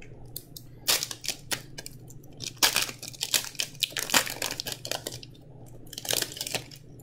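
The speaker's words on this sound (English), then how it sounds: "So much fun to open packs, guys" Commander Legends trading card packs being torn open, with a close, busy run of crinkling foil wrappers, tearing and rustling card handling in irregular bursts, no talk.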